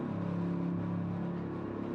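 Race car engines in the Gran Turismo video game, GR3 cars lapping the Nürburgring Nordschleife, hum steadily and fairly loud with a sustained droning tone and no talk over it.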